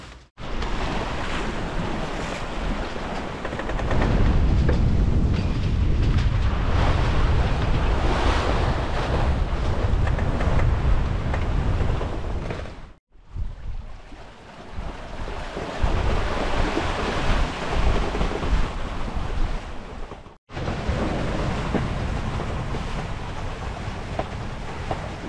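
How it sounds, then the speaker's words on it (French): Wind rising at sea aboard a sailboat near the Canary Islands, a loud continuous roar of wind buffeting the microphone over rushing waves, broken by two abrupt short drops, with no talk. "Bon, le vent est monté,"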